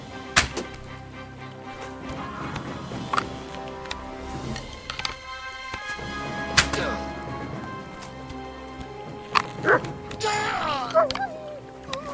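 Dog in the medieval video game Kingdom Come Deliverance 2 giving scattered yips and barks among thumps and game sounds, with someone talking over it.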